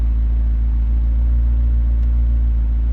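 A McLaren 600LT Spider idles in track mode with the back window dropped, a loud, steady low exhaust rumble held evenly throughout, with no talking over it.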